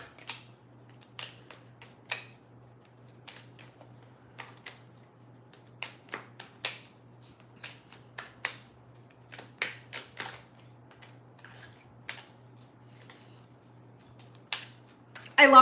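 Slippery iridescent foil tarot cards are shuffled in a string of soft, irregular riffs and taps, close and quiet over a low steady hum, ending in a louder clatter.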